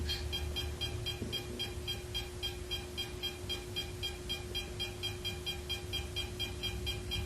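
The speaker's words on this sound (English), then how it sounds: "the thing you notice as it gets closer to the sensor, it beeps faster" Electronic sensor beeping in a quick, regular series of short high tones, repeating steadily over a constant low hum and background noise, with no talking.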